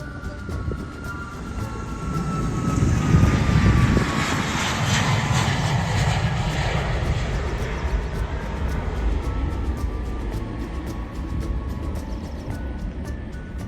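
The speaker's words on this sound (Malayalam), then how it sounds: "ഇവിടെ പ്ലെയിൻ ടേക്ക് ഓഫ് ചെയ്യുന്ന വ്യൂ കാണാൻ നല്ല അടിപൊളിയാണ് കേട്ടോ" An airplane taking off at a plane-spotting spot: a broad, rumbling engine roar swells over the first few seconds, then holds as a loud, steady wash of noise with no voices.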